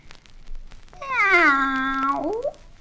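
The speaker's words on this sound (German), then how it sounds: "Das Büsi ist drum herumgeschlichen und hat gemauzt." A cat lets out a single drawn-out meow that is close and clear, rising and then bending downward near the end, after a few faint soft sounds.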